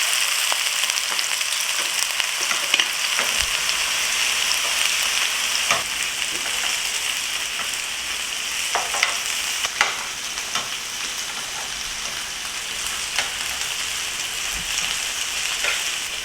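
Shrimp sizzle and crackle steadily in oil that is a little too hot for Trinidad curry shrimp, a dense continuous fry with occasional sharper pops, close and fairly loud with no talking.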